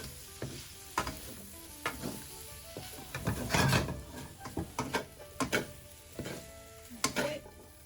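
Shrimp fried rice is stir-fried in a pan, with a steady sizzle under repeated sharp scrapes and clanks of a spatula against the pan at an irregular rhythm, close and fairly loud.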